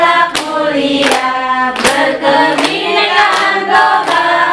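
Sharp hand claps land in an uneven rhythm over a group chanting together in a school lesson on Pancasila and positive school culture, with the voices carrying steadily between the claps.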